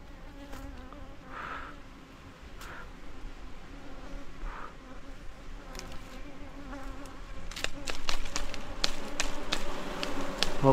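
A wild bee nest outdoors, with a steady swarm buzz of bees throughout, rising slightly louder toward the end, mixed with faint ambient rustle and a few light taps; no voices.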